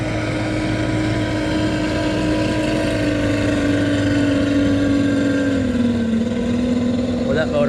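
A boat motor runs steadily nearby on a slow river while smallmouth fishing, a continuous droning hum with a slight drop in pitch near the end, loud and constant, with no voices over it.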